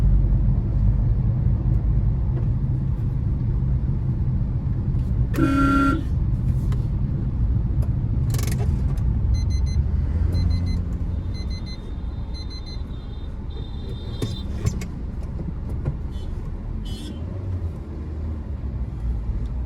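A Suzuki Swift car drives along an empty road, producing a steady, loud engine hum and road rumble throughout, with a few brief higher tones and clicks partway through.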